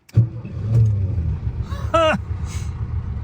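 A 1960 Volkswagen Beetle engine rumbles steadily up close and is revved with throttle, a low continuous drone with a brief higher whine partway through.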